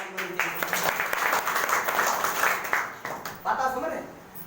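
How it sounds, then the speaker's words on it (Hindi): A crowd at a speech gathering applauds, a dense run of clapping that holds steady for a few seconds, then thins and breaks into scattered claps near the end. "ऐसे सिस्टम के लिए जोरदार ताली होनी चाहिए"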